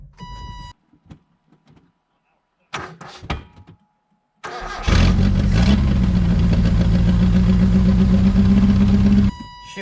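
A 1987 Dodge Colt Vista 4x4 engine cranks and catches into a loud, steady run for about five seconds, preceded by scattered clicks and clunks in near silence; close and rough-toned.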